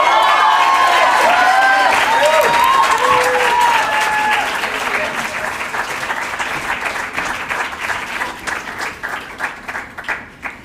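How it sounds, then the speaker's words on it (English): A crowd at an alumni commencement ceremony applauds, a dense, loud wash of clapping with some cheering and a voice speaking at the start, gradually thinning into scattered individual claps as it fades. "Let's have another round of applause for the 2020 and 21 Masters students."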